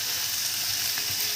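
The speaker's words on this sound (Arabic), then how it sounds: "ياخد بقى هو تشويحه كده بينه مع البصل والثوم والحاجات الحلوه دي" Garlic slices sauté with onions in a hot pan, a steady close sizzle and fry that stays even throughout with no talk.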